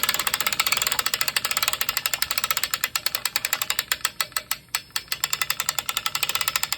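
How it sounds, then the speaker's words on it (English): Jet ski trailer winch ratcheting in a new strap fitted with a stainless steel hook: a rapid, steady run of sharp metallic clicks, close and clear, continuing throughout with no talk. "Now we're gonna engage our winch."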